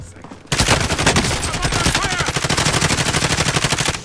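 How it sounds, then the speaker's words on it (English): Sustained rapid automatic gunfire in a battle royale video game bursts in suddenly after a quiet moment, a loud, dense stream of close shots continuing without pause. "I'm taking fire!"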